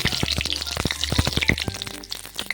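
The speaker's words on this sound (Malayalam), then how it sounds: "ആ എണ്ണ തന്നെ ഉപയോഗിക്കാം അങ്ങനെ പപ്പടം ഇട്ടെടുത്തു" Pappadam frying in hot oil, with a crackling, bubbling sizzle of dense rapid pops, loud and close, surging and easing over a couple of seconds.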